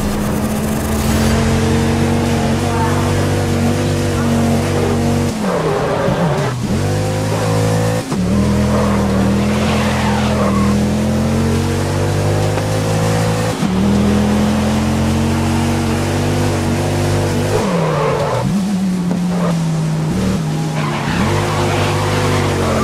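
Race cars in the video game Grid 2019 roar off the line together, engines revving loud and continuous with tire squeal and skidding as the pack surges forward for the full stretch.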